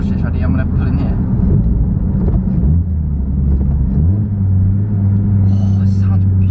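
A Vauxhall Corsa with a newly fitted exhaust rumbles loudly and drops into a lower gear partway through, the engine note shifting to a deeper, steadier drone while someone talks over it.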